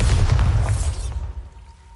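A Bombarda blasting spell explodes in Hogwarts Legacy, a heavy close boom with deep rumble that decays over about a second into quieter ambience.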